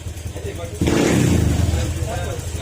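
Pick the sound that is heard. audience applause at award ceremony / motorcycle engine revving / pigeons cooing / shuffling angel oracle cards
motorcycle engine revving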